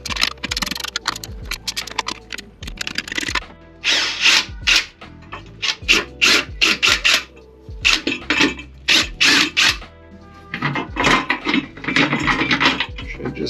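A ratchet or wrench works loose 13 mm bolts from a metal seat plate inside a Ford Transit van, with repeated clicking bursts and metallic rattles close by, pausing between bolts.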